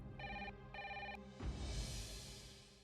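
A telephone rings in two distinct double bursts in an Indian family drama dubbed in French, the bell clear and fairly close, followed by a rush of broadband noise.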